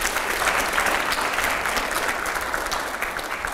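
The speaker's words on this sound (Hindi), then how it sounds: "अगले सवाल के लिए जोरदार तालियां हो यहां पर" Sustained, dense applause from a large audience at a televised interview event, steady and fairly loud throughout with no talk over it.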